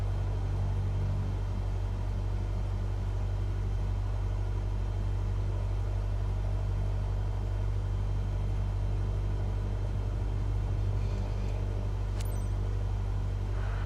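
An aircraft engine in Microsoft Flight Simulator holds steady at about 1,400 RPM while the plane sits still, giving a constant low droning hum with no change in pitch and a faint click near the end.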